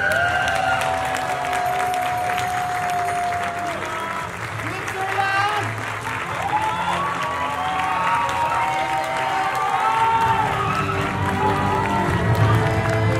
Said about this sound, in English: a big round of applause to the swimsuit competition